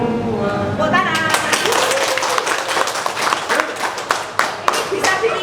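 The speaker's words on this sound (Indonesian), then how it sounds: "Tepuk tangan." A group of people claps hands together, starting loosely and then breaking into sharp, irregular, fairly close claps that carry on steadily.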